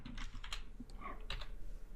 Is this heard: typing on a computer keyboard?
yes